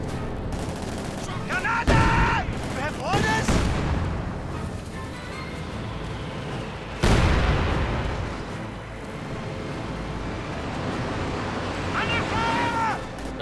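Artillery barrage and gunfire in the Company of Heroes 2 strategy game: heavy booming impacts and rumbling explosions, with whistling shells falling, loud and continuous.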